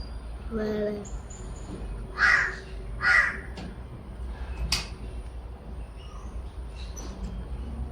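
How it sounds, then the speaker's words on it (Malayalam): Two harsh crow caws come a second apart, moderately close, over a low, steady indoor background, followed by a fainter bird-like call. "കാക്ക കരയുന്നത് കാ കാ"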